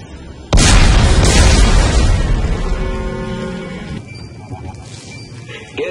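Explosives detonate in the sci-fi horror game Dead Space 3: one sudden, very loud blast, then a long crackling, debris-filled rumble that decays over several seconds, with a faint voice near the end.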